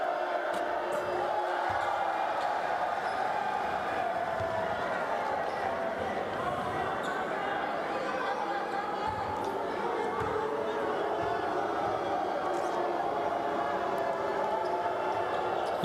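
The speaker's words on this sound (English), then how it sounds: "The crowd noise going higher and higher" A packed basketball arena during a Nigeria versus Mali FIBA Olympic pre-qualifying game, with steady, dense crowd roar and chatter rising around a free throw while a commentator talks.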